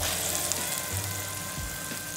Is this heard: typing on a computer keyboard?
no